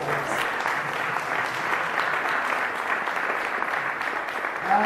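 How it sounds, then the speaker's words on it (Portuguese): A church congregation claps together in a dense, steady burst of applause that fills the room and holds evenly throughout. "Você pode aplaudir o Senhor?"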